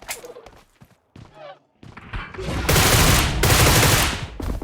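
A burst of rapid gunfire in a shooter video game, striking a dinosaur, loud and sustained in the second half after scattered short sounds and brief quiet gaps, with no clear talk.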